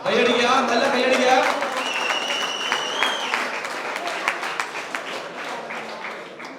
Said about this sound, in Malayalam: കൈയടിക്കുക. നല്ല കൈയടിക്കുക.